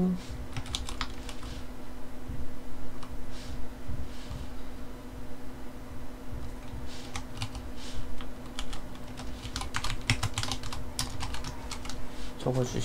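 Rapid, uneven keystrokes on a computer keyboard while awk commands are entered, clicking close and steady in bursts across the whole stretch over a faint low hum.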